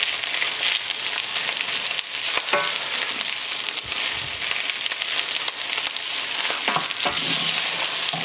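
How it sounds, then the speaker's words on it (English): Prawn shells sizzle and crackle in hot oil in a pan for a bisque, with a steady close frying hiss broken by occasional stirring scrapes and pops. "You can hear the sizzle."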